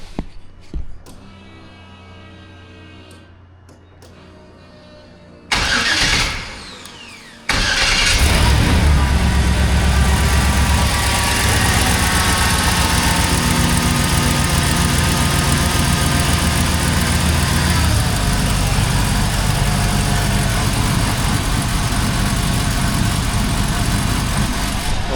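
A Buick engine cranks briefly, then catches and roars to life, settling into a steady, loud idle that continues for a long stretch.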